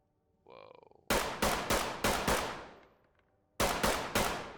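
A 5.56 carbine with an 8-inch barrel fires in Ready Or Not: loud, close, sharp shots in two quick bursts of several rounds, with a short lull between, after a brief rising mechanical whir.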